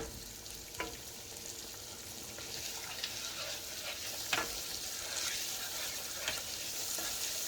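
Yogurt is stirred into caramelized onions in a hot pan while making chicken nargisi kofta, a soft steady sizzle with occasional spoon scrapes and clinks, no talk.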